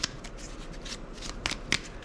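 A deck of game cards is shuffled during a tabletop board game, a few crisp riffling bursts and quick flicks spread over about two seconds, close and fairly quiet with no voices.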